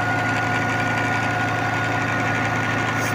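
A New Holland Dabung 85 tractor engine runs steadily at 1700 RPM while driving a 5-inch water turbine pump, its loud, even diesel throb and knocking rumble continuing close by without a break.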